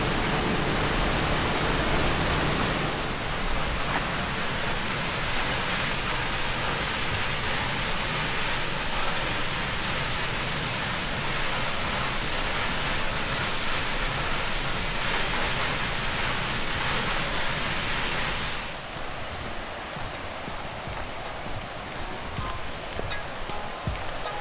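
Queen Mary Falls waterfall heard from close by, a loud continuous rushing roar of falling water that drops noticeably quieter near the end, no voices.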